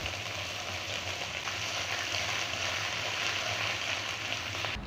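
Whole garam masala, bay leaf and white cumin sizzle in hot oil over caramelised sugar: a steady, dense, close frying hiss that holds evenly throughout, then cuts off abruptly at the end.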